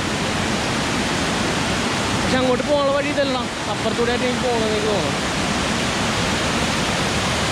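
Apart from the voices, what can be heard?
waterfall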